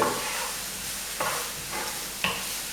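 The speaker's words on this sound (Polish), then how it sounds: "Podsmażam cebulę przez minutę." Onion frying in well-heated olive oil, the start of a pork-shoulder tomato meat sauce: a steady broadband sizzle with a few sharp stirring scrapes about a second apart, close and moderately loud, no talking.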